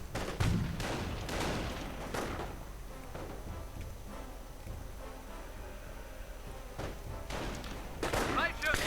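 Rifle fire from a World War II real-time strategy game, German paratroopers shooting at engineers near Carentan in Normandy: scattered sharp gunshot bursts at the start and end, with a quieter stretch of battlefield noise between.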